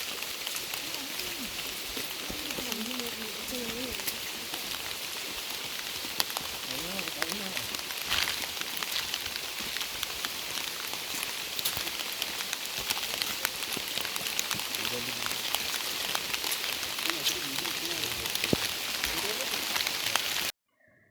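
Steady heavy rain pours without a break on the Rajamale–Sandagalathenna path up Adam's Peak, a dense close hiss with faint voices under it now and then.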